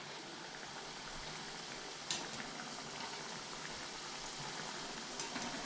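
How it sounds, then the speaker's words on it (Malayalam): Badusha, a sweet fried pastry, cooks in hot sunflower oil over a medium flame, giving a continuous dense bubbling sizzle with a few sharp pops near the start and again toward the end. "അപ്പം ഈ സമയത്തൊക്കെ നമ്മൾ ഒരു മീഡിയം ഫ്ലെയിം വെച്ചിട്ട് വേണം കേട്ടോ വറുത്തെടുക്കാൻ"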